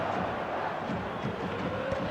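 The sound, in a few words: stadium crowd cheering in video game eFootball 2025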